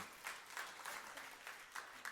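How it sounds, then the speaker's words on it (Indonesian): Applause from a church congregation, faint and fairly distant, a steady patter of hands clapping with a few sharper claps rising out of it over about two seconds. "Tepuk tangan yang meriah untuk kemuliaan."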